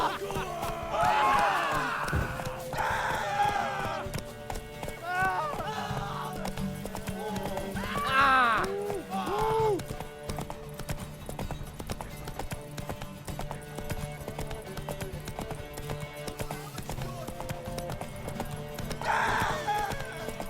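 Horse hooves clip-clop in a Witcher 3 race with Ciri riding toward a tower, interspersed with whinnies and neighs, set against a steady bed of game music and ambience.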